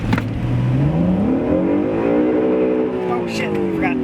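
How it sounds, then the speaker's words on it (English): An Acura NSX engine climbs in pitch during a launch-control run, then holds a steady high rev and eases slightly. The engine is close and loud, with voices talking over it. "We try to launch control this bad boy."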